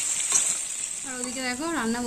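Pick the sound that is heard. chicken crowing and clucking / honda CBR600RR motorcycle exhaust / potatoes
potatoes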